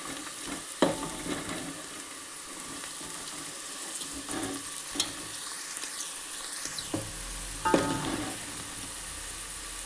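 Oil frying steadily in a pan for gongura chicken, a continuous close sizzle broken by a few louder stirring scrapes and clatters, with no talking.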